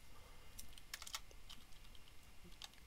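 Keys on a computer keyboard are typed in a short, irregular burst of quiet clicks, with a few pauses between keystrokes over a low background hum.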